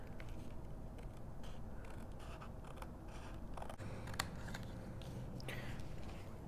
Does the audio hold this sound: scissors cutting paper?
yes